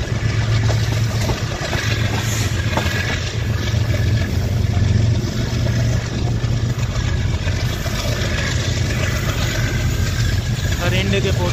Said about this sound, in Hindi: चालीस सौ हॉर्स पावर का इंजन लगा हुआ है इसके साथ।